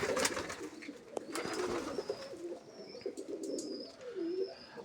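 Pigeons in a loft coo softly and repeatedly at close range, with a few brief higher calls and light rustling between the low, throaty notes.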